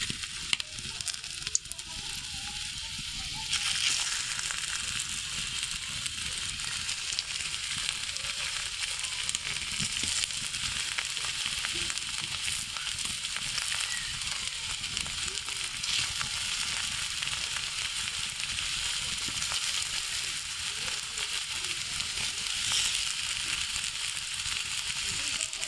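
Pitha frying in a little oil in a kadai gives a continuous, even hiss and sizzle, close and steady throughout, after a few brief handling noises at the start.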